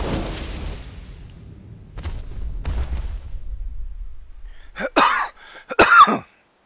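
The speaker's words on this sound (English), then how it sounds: "Coughing doesn't help." A couple of sharp, close coughs near the end, following quieter breathy noises and faint thumps.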